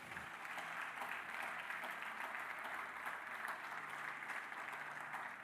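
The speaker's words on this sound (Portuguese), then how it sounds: "Você pode aplaudir a Deus?" A church congregation applauds, a steady dense wash of clapping from many hands that holds evenly throughout without voices over it.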